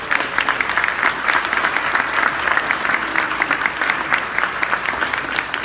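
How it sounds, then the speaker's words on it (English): Audience at a Colorado Springs political forum gives a round of applause for Gazette publisher Dan Stever, sustained even clapping from a full room, loud and unbroken throughout. "Let's give him a round of applause"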